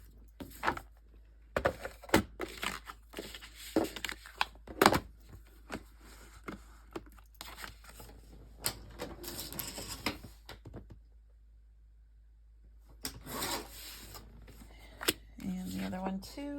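Scissors cutting paper folder inserts for a travelers notebook, heard as repeated close, crisp snips and paper rustles in bursts, with a quieter pause midway and some handling noise.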